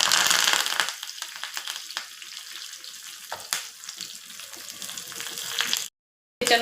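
Mustard seeds, cumin and curry leaves crackle and sizzle in hot oil as a tempering for chutney, loudest at first and then settling into a steady spattering hiss before cutting off briefly near the end.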